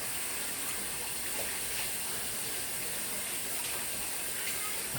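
Water runs steadily from a kitchen tap while a hollowed-out green pepper is rinsed, a constant broad hissing wash of moderate loudness with no talking.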